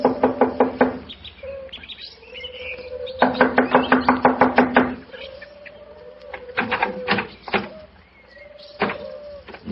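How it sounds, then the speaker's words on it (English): Knocking on a door for a radio drama sound effect comes as two bursts of rapid, sharp raps, then a few scattered single knocks, close and dry against faint chirping background. "I'll knock on the door."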